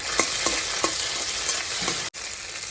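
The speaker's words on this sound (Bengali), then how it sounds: "ডুমুরগুলো ভালো করে ভাজা করা হয়ে গেছে এবার আমি মশলাগুলো দিয়ে দেবো" Fig pieces frying in a pan as a ground paste of ginger, cumin, capsicum, tomato, garlic, onion and chillies goes in, a continuous sizzle with a few scraping stirs and a brief break near the end.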